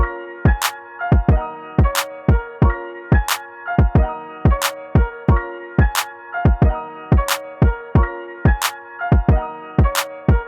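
A beat with punchy kicks and a looping piano sample, a steady repeating groove of bright chords over deep thumps, clear and upfront with no voices.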